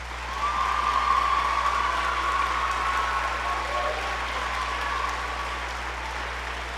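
A school choral concert audience applauds students in a steady, sustained wash of clapping that fills the hall, with a faint whistle-like tone running through it.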